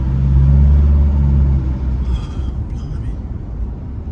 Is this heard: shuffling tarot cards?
no